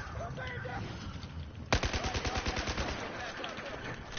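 Rapid automatic gunfire erupts in a Battlefield video game match, a loud burst of evenly spaced shots rattling on for over two seconds after a quiet stretch of background battle noise.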